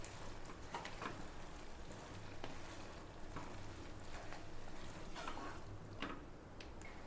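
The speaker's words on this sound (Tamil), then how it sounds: "லைட்டாக மிக்ஸ் பண்ணி விட்டுருங்க" Pan of creamy broccoli noodles with chilli flakes and oregano stirred lightly, giving a steady soft sizzle with faint scraping and clinking throughout, fairly quiet and with no talking.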